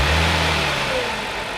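A 2014 Audi S4 with its stock intake runs steadily up close, a low engine drone with a falling pitch trace as the revs ease off. It is heard alone with no talk.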